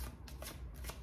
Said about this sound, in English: I love this deck, except for the fact that the cards are super slippery.